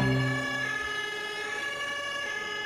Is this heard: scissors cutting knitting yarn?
no